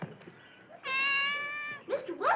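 A single drawn-out cat meow rings out clearly for nearly a second, bright and steady, between quieter stretches with faint voices around it in a cartoon backyard scene.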